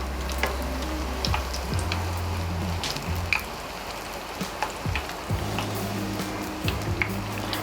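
Kremes batter fries in very hot oil with a continuous close sizzle and scattered pops and bubbling crackles. No one talks.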